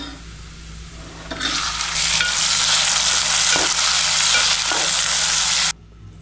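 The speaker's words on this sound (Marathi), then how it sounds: "आता त्याच्यामध्ये टोमॅटो टाकते. एक टोमॅटो घेतलाय बारीक करून." Chopped tomato hits browned onion in hot oil with a sudden loud hiss that holds for about four seconds, stirring scrapes mixed in, then cuts off abruptly.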